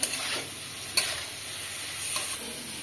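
Spices frying in a pan in a Bengali home kitchen give off a continuous hiss, broken by a few sharp scrapes as the spoon stirs, close and moderately loud.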